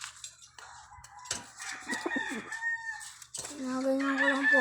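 An angry chicken being deliberately provoked crows and clucks loudly at close range, with agitated squawks rising in bursts and a sustained harsh call near the end.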